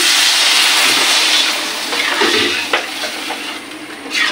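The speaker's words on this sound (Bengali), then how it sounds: "আমি জল দিয়ে দিচ্ছি" Water is poured into spices frying in soybean oil, setting off a loud, rushing sizzle that fills the opening seconds before easing into softer bubbling and a few stirring scrapes.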